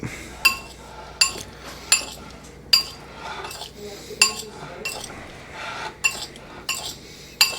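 Oil-coated potatoes are stirred in a bowl, giving a steady run of sharp clinks and scrapes as the utensil knocks the bowl roughly once a second, close and fairly clear, over a faint background hiss.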